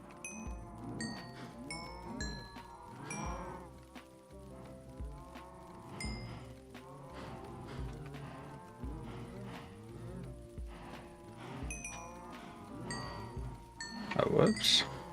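Cattle in the Minecraft video game give several moos in a row over a steady game backdrop, with a voice talking at times.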